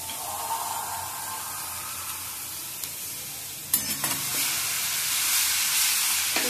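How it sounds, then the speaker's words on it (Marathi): Grated carrot halwa mixture with mawa sautéing in ghee over a low flame, giving a steady close sizzle that grows louder after a clatter of stirring partway through. "थोडं परतून घेऊया तुपामध्ये"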